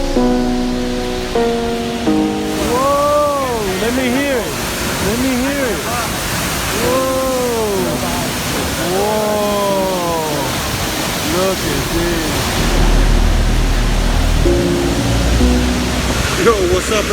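A waterfall in the Andes mountains roars as a steady, loud wash of falling water throughout. Curving, swooping tones rise and fall over it.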